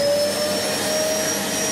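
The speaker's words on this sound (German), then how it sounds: "Ich möchte euch mal kurz meinen neuen Staubsauger zeigen." A new Yeti vacuum cleaner runs at a constant loud, close, rushing whine with a thin high tone on top, steady and uninterrupted throughout, with no talking.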